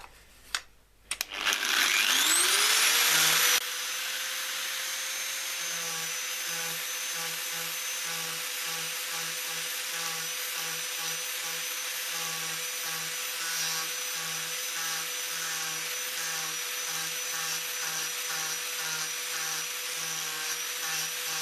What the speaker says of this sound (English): now the thing to do is to grind some of this back, so we've got a taper